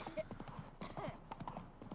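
Horse hooves clip-clop in the video game The Witcher 3, a quick run of clear, close hoofbeats under faint, intermittent talking.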